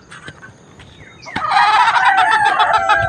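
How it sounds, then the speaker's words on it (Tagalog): A flock of hungry farmyard chickens on a small backyard poultry farm breaks into loud, dense clucking and gobbling calls close by in the morning, after a few scattered squawks. "Sumalubog na sa akin yung mga manok."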